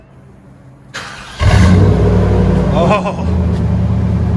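Chevy/GMC 5.7L V8 with a loud exhaust fitted with angle-cut tips starts up and revs into a deep, booming rumble that holds steady, close and loud, with a brief exclamation from a voice.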